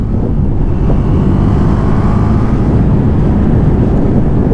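A Husqvarna 401 Svartpilen motorcycle on a test ride gives a loud, steady engine drone mixed with heavy wind rush, continuous and close throughout.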